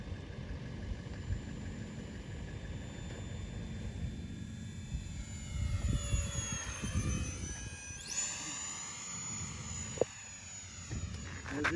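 Phoenix 90mm Preceptor RC jet in flight, its turbine whine rising and sweeping in pitch as it accelerates in a climb and passes overhead, heard outdoors over steady background noise.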